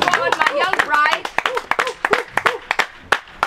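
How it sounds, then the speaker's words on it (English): A group claps along to keep the pace of a performance rehearsal at an academy. The sharp, uneven hand claps are mixed with singing and spoken voices. "Everybody clap for them. Clap for the pace."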